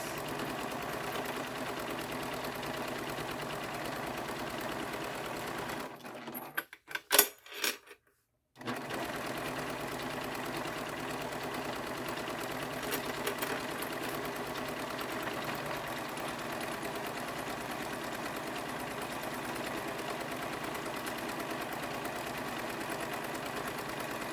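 A sewing machine bastes fabric for a wristlet with a steady, continuous mechanical hum, briefly stopping mid-way with a few clicks before running on evenly.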